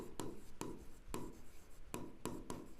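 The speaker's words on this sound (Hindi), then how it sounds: "यहाँ पे मैं लिखती हूँ" Pen or marker writing by hand during a maths class, with six quick, crisp scratching strokes at an uneven rhythm, close and fairly quiet over faint room noise.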